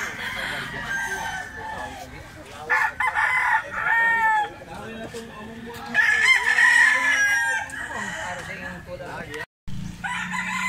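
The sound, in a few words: rooster (stag) crowing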